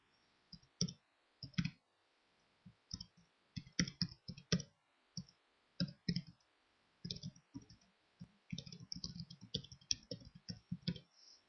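Typing on a computer keyboard to enter an email address, with bursts of close, crisp key clicks in irregular runs and short pauses between them, nothing else heard.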